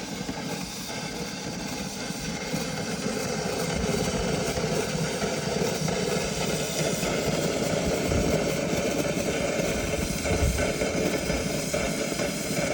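A farm tractor engine that has overheated runs at a steady, close idle. It makes a constant low rumble with vibration throughout, and no one speaks.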